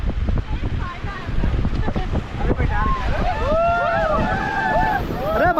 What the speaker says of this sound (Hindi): गंगा मैया का जयकारा लगाते हुए हम लोग अपनी राफ्टिंग स्टार्ट करते हैं